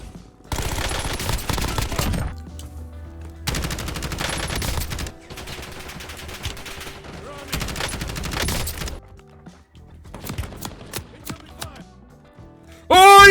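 Gunfire in a Warzone gunfight, several long bursts of rapid automatic shots separated by short pauses, loud and close, with a few single shots near the end.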